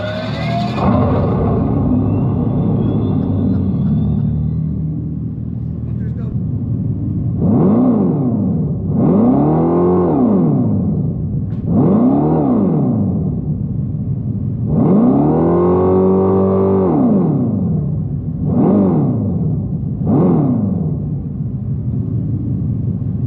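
Simulated exhaust sound from a 2025 Dodge Charger Daytona R/T electric car, rising and falling in about six separate revs, loud and close, with a steady low hum between them.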